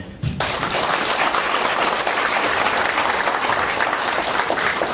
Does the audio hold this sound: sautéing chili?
no